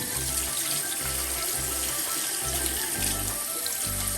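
A kitchen tap runs steadily for handwashing, a loud continuous hiss of water with a low rumble pulsing underneath and no voices over it.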